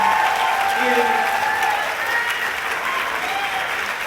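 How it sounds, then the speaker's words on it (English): Steady applause from a campus convocation audience, a dense wash of clapping that holds at an even level throughout. "Give her a round of applause."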